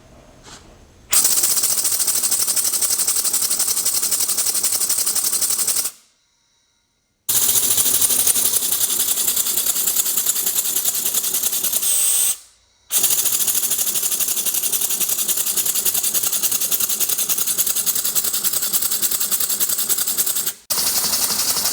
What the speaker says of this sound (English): There's my 3-cylinder, 1-stroke air-powered motor.